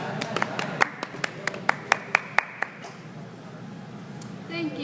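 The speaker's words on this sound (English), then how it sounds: "Now, can we have a warm round of applause for King Sihanouk?" A small audience claps for King Sihanouk at a historical event, roughly a dozen distinct sharp claps in an uneven burst that fades out after about three seconds, leaving quiet room tone.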